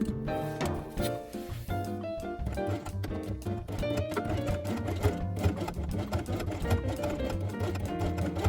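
A sewing machine runs steadily for about eight seconds, stitching the inner binding strip of a fabric quiet book along a drawn seam line. It holds a continuous, even mechanical hum and patter with no talk over it.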